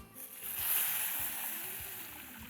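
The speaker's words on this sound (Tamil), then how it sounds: "இதில் 3 கிளாஸ் தண்ணி இதில் விட்டுறேன்." Water pours and sloshes into a cooking pot of sautéed rice, three glasses' worth, a steady splashing rush with a hollow low rumble, fairly close and unaccompanied by voices.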